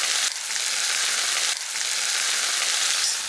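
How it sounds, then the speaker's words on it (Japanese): Hot oil is poured over white fish simmered with chili, setting off a loud, bright hiss of sizzling that swells in two bursts and holds steady, with no voices over it. "そしたらここに熱した油をぶっかける。"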